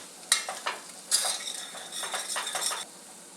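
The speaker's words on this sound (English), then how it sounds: "And you stir it so it doesn't burn on the bottom." A metal spoon stirs turmeric through a pot of khichdi of rice and lentils, scraping and clinking against the pot in a few close, bright strokes over a faint sizzle. No one talks.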